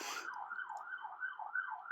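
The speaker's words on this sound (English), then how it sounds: "there's a siren in the background" Wailing emergency siren in the background outside, a rising and falling tone repeating several times, moderately faint and heard on its own.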